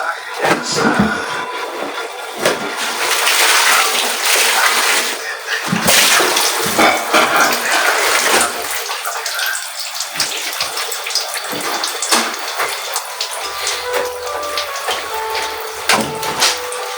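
Tap water runs and splashes while laundry is washed by hand on a morning of heavy rain, a loud, continuous gush broken by sloshing and scrubbing bursts.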